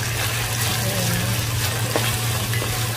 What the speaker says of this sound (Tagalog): Two minutes natin lulutuin ang ating chicken